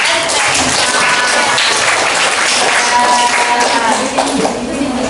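A classroom of students claps steadily in dense, continuous applause that lasts the whole stretch without a break, loud and close, with voices faintly mixed in.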